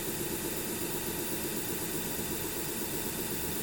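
A Vevor 1x30 belt grinder running steadily, a continuous even motor whir with a broad hissing belt noise, unchanging and fairly quiet, with no talk.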